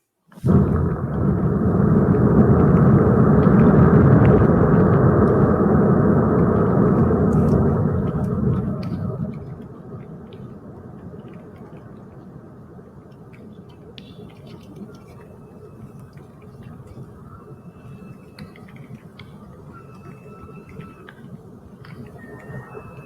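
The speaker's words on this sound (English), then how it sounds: "so you know what a glacier sound like through a parabolic" Glacier ice calving, recorded through a parabolic microphone: a heavy, low rumbling roar swells loudly for several seconds, then drops to a quieter, steady low rumble with faint scattered ticks above it.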